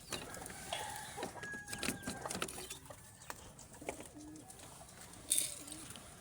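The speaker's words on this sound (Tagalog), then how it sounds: "Siyempre papakain ko rin yung mga kalapate ko dito, yung mga breeder." Breeder pigeons give soft, low coos at intervals during feeding, with quiet rustling and a short, sharper sound near the end, all fairly faint and distant.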